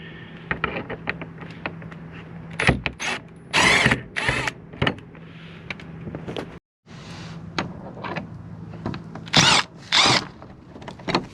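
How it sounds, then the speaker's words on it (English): Cordless power drill fitted with a Torx bit backing bolts out of a Ford Bronco Sport during an evap canister replacement, with several short whirring bursts, ratcheting clicks and handling clatter close by, no talking. "you use your Torx bits to get those 3 off, and then the rest should be 10mm"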